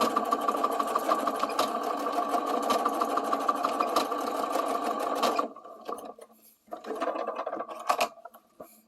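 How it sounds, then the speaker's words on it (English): Sewing machine running a zigzag stitch over elastic on a skirt: a loud, steady mechanical whirr with rapid needle rhythm for about five seconds, a brief pause, then a shorter burst of stitching and a stop. "I take it to my sewing machine here, and I just do some zigzag back and forth to hold the elastic in place."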